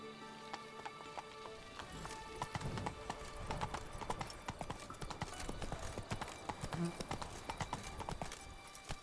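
A horse gallops in The Witcher 3 with rapid, continuous clip-clop hoofbeats that stay prominent throughout. Faint game ambience sits underneath.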